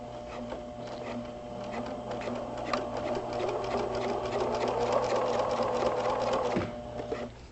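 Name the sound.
sewing machine with zipper foot sewing thick welt cord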